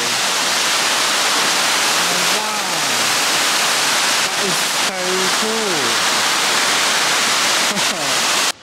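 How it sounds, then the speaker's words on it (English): A big waterfall crashes nearby in a wash of loud, constant hiss, and a person's voice rises and falls over it a few times. "That waterfall's so amazing."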